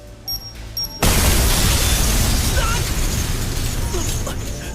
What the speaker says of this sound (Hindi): धमाके के कारण रॉन होश में आ चुका था।